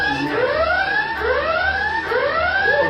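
Buzzer going off repeatedly during a Halloween murder party game, a loud pulsing electronic alarm tone with rising sweeps recurring about every second, heard alone with no talk.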